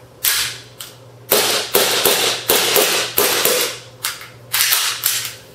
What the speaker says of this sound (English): Let's go ahead and shoot it. It's got pretty solid recoil on it.